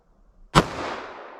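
One close, sharp report from a Glock 41 pistol firing .45 ACP Sig Sauer 185-grain V-Crown rounds bursts from quiet and trails off into a long, rolling reverberant tail.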